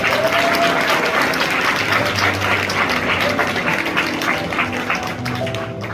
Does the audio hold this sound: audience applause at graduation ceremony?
yes